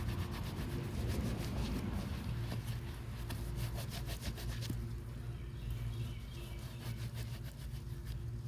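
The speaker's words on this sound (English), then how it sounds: "just spray it on here and then just scrub into it" A work hat gets scrubbed after spraying on a cleaner, a steady brisk rubbing and scratching of a brush against fabric that continues close and unbroken throughout.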